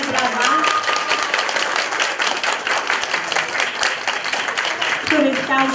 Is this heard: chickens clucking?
no